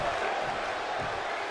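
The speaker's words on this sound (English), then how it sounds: "The sound of this crowd is deafening" Loud, steady roar of a large wrestling arena crowd during a WWE championship match between John Cena and Triple H, a dense continuous wall of noise with no break across the moment.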